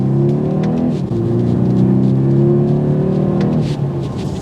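A 2022 BMW 230i coupe engine in sport mode drones steadily with a throaty, even rev held for a few seconds, loud and close, with a slight dip and swell midway and no talking.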